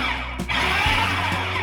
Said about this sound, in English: just pulse it a few times to start with.